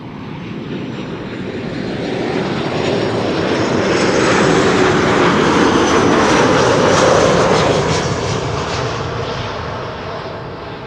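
A Boeing 737-700 airliner passes at Schiphol Airport, its engines a broad steady roar that swells to a peak mid-pass and then slowly fades, with no voices over it.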